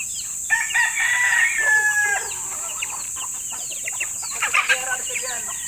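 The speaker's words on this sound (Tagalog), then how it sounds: "Ito, feeding time na naman tayo ng ating mga alagang manok." Farm chickens cluck and a rooster crows at feeding time, busy overlapping calls close by, with brief louder bursts toward the end and a voice speaking softly among them.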